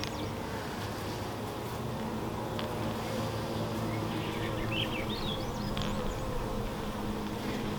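Honey bees drone around hive frames during a hive inspection in a dense, steady buzz close by, a constant swarm hum with faint bird chirps in the distance.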